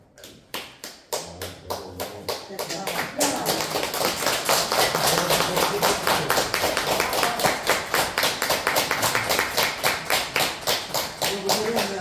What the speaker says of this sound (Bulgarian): Благодаря за аплодисментите